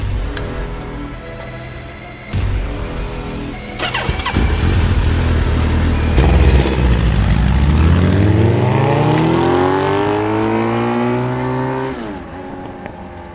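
A 2004 Nissan 350Z Touring Edition cranks and fires, then settles into a loud, close engine note that rises steadily as it revs up before dropping back, with no talking.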